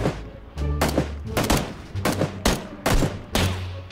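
Gunfire in PUBG: a string of about eight sharp, loud rifle shots at uneven intervals, each with a short echoing tail, over a low humming background.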